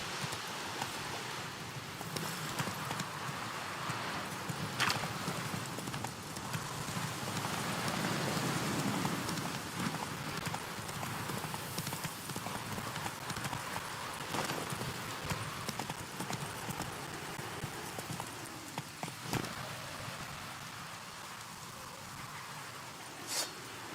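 Horse hooves clip-clopping at a steady gallop in the video game The Witcher 3, a continuous rhythmic patter with rain falling throughout and no talk.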